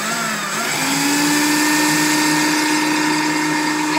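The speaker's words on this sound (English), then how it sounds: "So I'm just going to blend this up. It's going to be a little noisy." A blender blending basil and parsley pesto runs continuously at high speed, its motor whine rising slightly as it settles into a steady, loud buzz.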